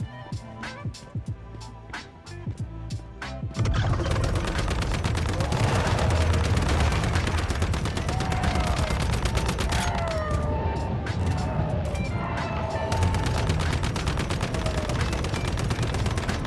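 Sustained, loud gunfire in the survival shooter Once Human: sparse shots at first, then a dense continuous barrage of rapid shots with impacts and effects layered over it for most of the stretch.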